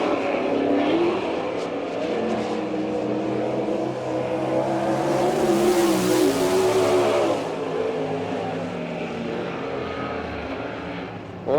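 Sprint cars roar around the Port Royal, Pennsylvania dirt oval on the opening lap of an All Star Circuit of Champions night race, a loud continuous engine drone that swells as the pack passes close by.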